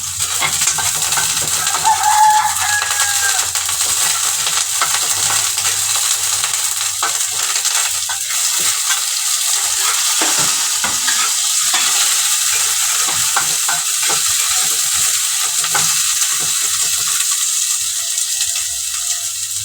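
Garlic and onion sautéing in a frying pan in a home kitchen, giving a steady, loud sizzle throughout with occasional stirring scrapes and a faint rooster crowing in the background.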